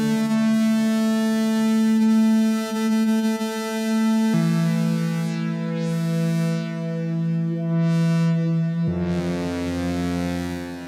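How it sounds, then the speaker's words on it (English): A buzzy square-wave synthesizer tone drones in long sustained notes, stepping down in pitch twice, washed in heavy reverb with swelling filter sweeps. "So that's with a square wave, and it's just through a lot of reverb"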